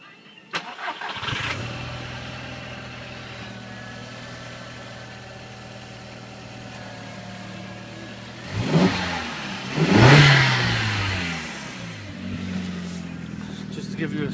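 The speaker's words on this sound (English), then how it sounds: "What we'll do is start it up." A 2002 SEAT Leon 20V Turbo Cupra, 270 bhp, engine cranks and catches, settles into a steady idle, then revs up sharply twice before dropping back to idle.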